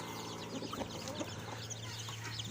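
Busy clucking and peeping from a group of 15-day-old chicks, close by, with overlapping calls over a constant low hum.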